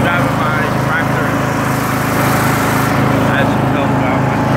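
A riding lawn tractor's engine drones steadily and loudly throughout, heard close up with a person talking over the continuous running.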